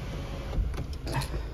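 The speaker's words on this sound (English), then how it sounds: "the panoramic sunroof, fully functional as well. Very nice option to have. Just open that up as well" A soft electric motor whirs briefly under a steady hum, with a few light mechanical clicks as a Mini's panoramic sunroof slides open with the car running.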